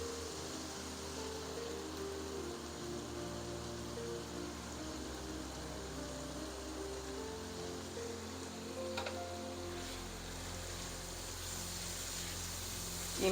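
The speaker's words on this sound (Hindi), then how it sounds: "प्याज लहसुन अदरक थोड़ा सा फ्राई हो गया है, अब इसमें कीमा डाल देंगे।" Beef mince goes into a pan of frying onion, garlic and ginger for dhaba-style keema. A continuous hissing sizzle carries on throughout, with a brief clink partway through and another at the very end.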